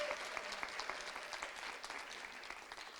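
Audience applause after a university dialogue event, fairly quiet and distant-sounding, a continuous patter of many hands clapping that holds evenly before easing off slightly toward the end.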